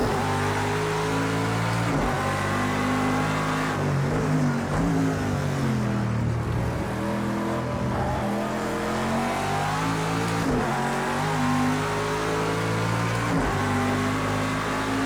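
A Vantage GTE race car engine in a racing game roars steadily, its pitch climbing and dropping through gear changes and throttle lifts as the lap goes on, with no talking.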